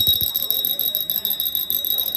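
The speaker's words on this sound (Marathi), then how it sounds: "बेलेचा पण इफेक्ट बघा" A puja bell from a complete puja set on show at a consumer fair in Vasai rings with steady, bright, sustained high tones, close and fairly loud, with a few soft knocks at the start.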